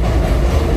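A New York subway train rumbles loudly and steadily up close, a dense low roar with faint rail clatter, under one second long and with no talking.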